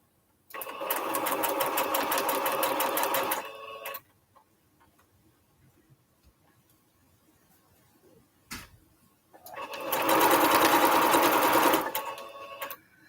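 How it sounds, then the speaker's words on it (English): Sewing machine stitching quilt strips together for a Triple Irish Chain quilt, running in two loud steady bursts of about three seconds each, separated by a quiet pause with faint handling noise. "I'm going to go ahead and sew this together"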